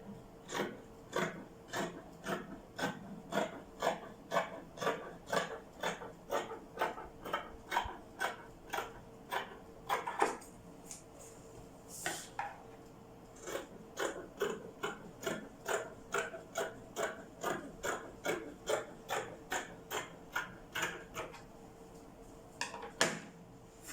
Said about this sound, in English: So the next thing to do, I'm going to trim out the excess.